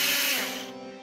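Cordless power drill running in reverse, a steady whirring motor hum with a high mechanical whine that slowly winds down over about a second, heard alone and close.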